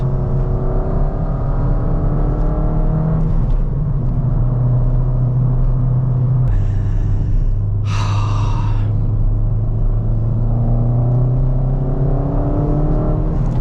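A Ford Fiesta ST200 with a Revo Stage 2 tune rumbles and revs steadily while driving, its pitch rising and falling through gear changes, with a couple of brief whooshing bursts midway.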